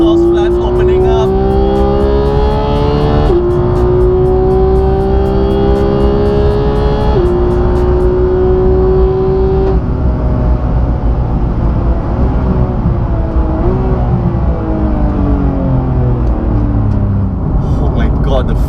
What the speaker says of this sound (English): Oh, did you just hear those exhaust flaps opening up?